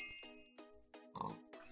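Pig oinking in the Minecraft Farmhunt game: a few short, close grunting squeals arrive in separate bursts with little gaps, heard alone without talk, with a brighter burst near the end.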